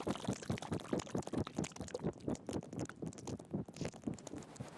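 Thick oil sands clay-and-water slurry sloshes back and forth in a container, rhythmic wet glugging pulses repeating quickly, close and fairly quiet, no talking.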